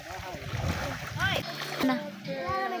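River water splashes as a child swims, with short close splashes and sloshing under people talking nearby.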